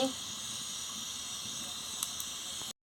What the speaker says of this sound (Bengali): গরম হয়ে গেছে, আমি তেল দিয়ে দিচ্ছি।